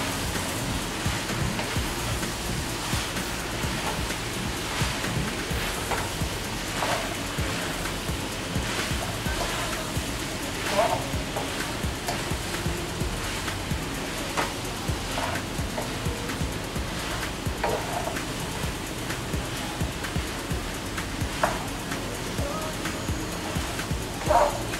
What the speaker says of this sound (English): Just stir fry that all together.